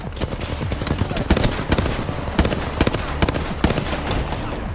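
Gunfire in the video game Apex Legends, rapid bursts of shots crackling close and loud in uneven volleys throughout.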